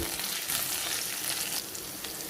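Asafoetida being stirred into green chillies and chutney ingredients frying in a pan for tomato-ginger chutney, giving a steady, close sizzle with soft scraping and no talk.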